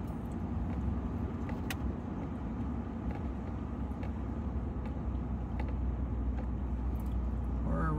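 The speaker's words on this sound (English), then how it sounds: "My window is down. Hopefully that wind noise is not doing too much to my audio." Wind rushing through an open car window while driving slowly along a mountain highway, a steady broadband roar with low engine rumble underneath and occasional faint clicks, continuous and close.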